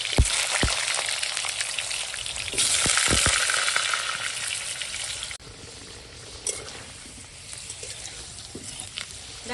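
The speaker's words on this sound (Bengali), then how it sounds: "তেল গরম হয়ে গেছে এই আলুটা ভেজে নিচ্ছি" Potato pieces frying in hot oil in a pan, a loud, close, steady sizzle with stirring scrapes that briefly swells louder, then settles into a quieter crackle.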